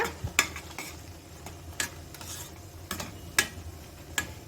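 A sweet carrot dessert mixture with sugar and cardamom powder is stirred in a pan: spaced, sharp scrapes and clicks of a spoon against the metal over a faint, low sizzle.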